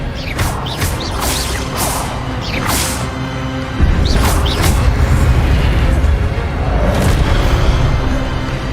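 Expelliarmus spell casts in a Harry Potter video game come as a loud sequence of sharp whooshing zaps. Dense rumbling booms and impacts follow, with the low background energy jumping midway through.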